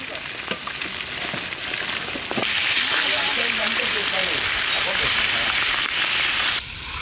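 Rohu fish fries in hot oil outdoors in a mountain setting, a loud, dense sizzle that swells midway and holds steady.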